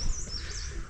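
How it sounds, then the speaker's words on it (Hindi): Birds calling and chirping in a dense forest in the Munsiyari mountains near Panchachuli. The calls are faint, continuous and fairly distant, and they come over a low rumbling background with no talk. "ये जो पक्षियों की आवाज़ होती है ना दोस्तों, जो घने जंगलों में एक शांति और उसमें जो ये आवाज़ें होती हैं"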